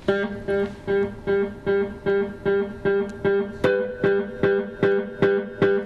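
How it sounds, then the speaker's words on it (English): A steady guitar figure repeating over and over through a Boss delay pedal set to infinite repeats, evenly pulsing echoes stacking without fading, mid-level and continuous with no talking. "make it infinite with the amount of repeats."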